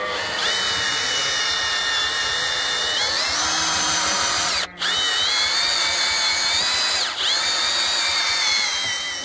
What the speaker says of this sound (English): run the drill and run the cordless drill